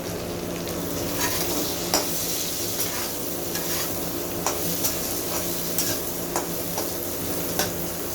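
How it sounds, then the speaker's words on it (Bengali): Green chillies sizzling and frying in a pan with potatoes and turmeric, a steady broadband hiss of hot oil with repeated sharp crackles and stirring clicks, close and continuous, no voices. "এখন আমি কাঁচা লঙ্কাগুলো দিয়ে দিলাম।"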